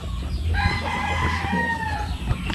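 A Gilmore Hatch gamecock rooster crows loudly and close, one long drawn-out call with a wavering tail, heard alone without talk.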